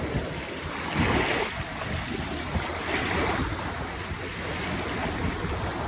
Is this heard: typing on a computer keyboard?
no